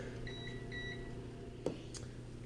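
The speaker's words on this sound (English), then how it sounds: "timer has gone off" An oven's kitchen timer beeps while a no-knead brioche bakes: two short bursts of high, clean electronic tones, followed by a sharp click and a soft clatter, with no talk.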